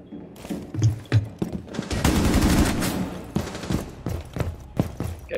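Rapid bursts of automatic gunfire in the tactical shooter Rainbow Six Siege, loud and close, with dense sustained volleys between sharper individual shots.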